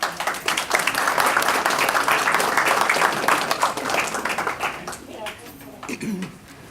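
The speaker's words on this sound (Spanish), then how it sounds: "Un aplauso para ella." Audience applause for the guest of honour at a book presentation, a dense steady wash of many hands clapping that thins and fades toward the end, with some voices mixed in.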